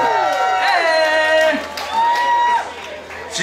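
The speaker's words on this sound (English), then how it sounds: "Yo, give it up for Sergio!" A live crowd cheers, whoops and claps for a band's bassist, loud and close, with shouting voices over the applause.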